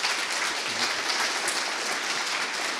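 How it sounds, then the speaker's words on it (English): An audience at a physics lecture event gives a sustained, dense round of applause, steady and full throughout with no talking over it. "give a big hand of applause to the three of them"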